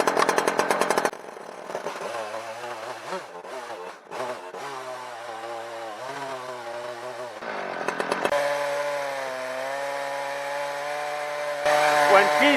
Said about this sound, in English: we're going to fire this husky back up and get back to milling